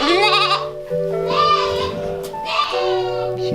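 Goat doeling bleating repeatedly, several close, loud wavering bleats spaced across a few seconds, with a steady tonal background under them.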